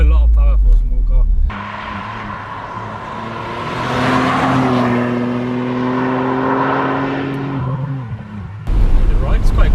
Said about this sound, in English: You get a nice whistling noise, and then you get the 3-cylinder rumble.